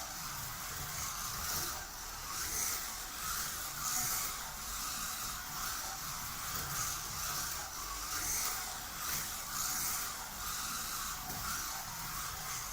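Revo slot cars, new and not yet broken in, run noisily around a track, making a faint steady hissing whir with gentle periodic swells as they circle.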